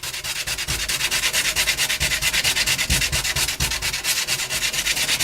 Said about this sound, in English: And you really don't have to push very hard. Let the sandpaper do the work for you.